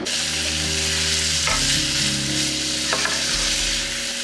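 Bacon and chopped onion brown in a pan on the stove, giving a steady, fairly loud sizzle with a few stirring scrapes, under a constant background hum, with no talking.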